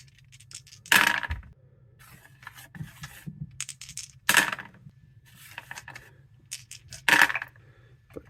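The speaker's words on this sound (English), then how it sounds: "Let's see if it successfully holds dice." Dice drop into a handmade wooden dice tray three times, each landing as a sharp clatter followed by a short rattling roll, close and distinct over a low background hum.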